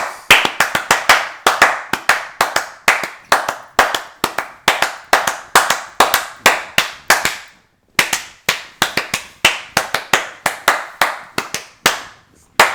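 Sharp, loud hand claps ring out in a quick, steady rhythm, dozens of close, crisp smacks with one brief pause midway before the clapping resumes.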